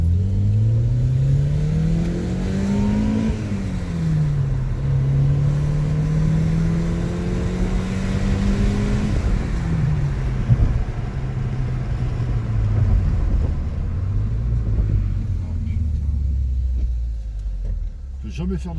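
An Audi A3 8P engine revs outside, a deep rumbling exhaust note rising and falling through several pulls, loud and close for the whole stretch before easing toward idle, with a voice talking over it.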